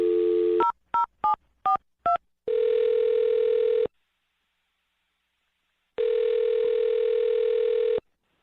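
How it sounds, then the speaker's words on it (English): A telephone number is dialed with five quick touch-tone beeps, followed by two long, steady ringback tones separated by a silent pause. "I'm going to dial her phone number right now"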